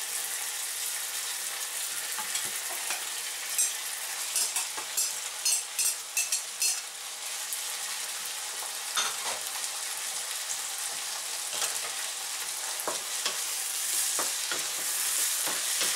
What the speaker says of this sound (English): Mix it around and uh, give it a good fry together.